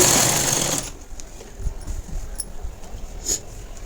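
A sewing machine joining blouse shoulder seams with a double stitch gives one short, loud whirring burst at the start, then falls to quiet room noise with faint clicks.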